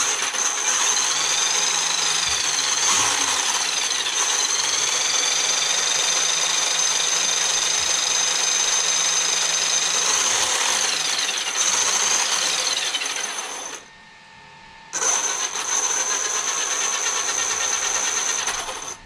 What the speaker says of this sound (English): So the gears are sounding a little funny just because the chipped tooth